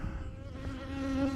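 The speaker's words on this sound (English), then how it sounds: "with this many bees, I don't know, there's about 100 or so bees there." A steady, close buzzing of about 100 honey bees, a dense droning hum that holds level throughout without pauses.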